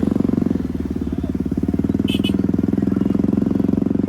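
A procession of bikers' motorcycles rolls along during a Nagar Kirtan in Alwar, engines chugging in a steady, throbbing rumble close by, with a brief high chirp partway through.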